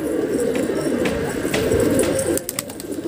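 Domestic pigeons coo in a low, steady murmur close by, a soft continuous rolling call with faint clicks and no talk.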